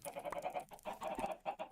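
Minecraft chickens clucking at close range, a quick run of short, nasal, repeated clucks and squawks in a brief burst with no talking.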